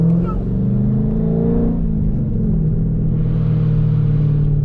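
Mopar car engines at a car meet rumble and rise in a low, steady drone throughout, with a brief rev, under faint background voices.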